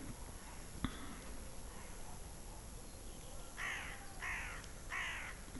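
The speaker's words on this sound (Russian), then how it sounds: "Вороны летают" Crows on a frosty winter day in a village, three harsh caws in quick succession near the end over a steady background hiss, faint and somewhat distant.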